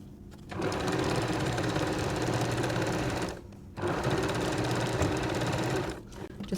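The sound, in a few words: sewing machine stitching a quilt seam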